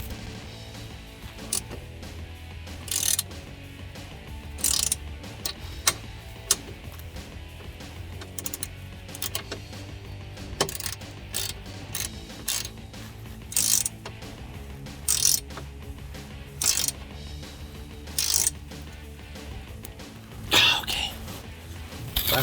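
Ratchet wrench tightening bolts on a Barricade 5-inch oval bent-end side step bar fitted to a 2019-2022 RAM 1500, heard as repeated short bursts of clicking spread across the clip, close up.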